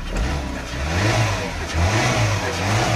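A 2003 Peugeot 307 with automatic gearbox revs up from idle in a series of loud, close rises and falls of engine pitch, with no one talking.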